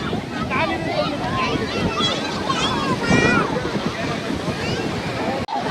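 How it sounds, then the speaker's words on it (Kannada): Big evening waves roll in and crash on Mahabalipuram beach as a steady, loud surf roar with wind, while several people talk and call out over it. "ಈಗ ಸಂಜೆ ಆದ್ಮೇಲೆ ಈವ್ನಿಂಗು ದೊಡ್ಡ ಅಲೆಗಳು ಬರುತ್ತೆ,"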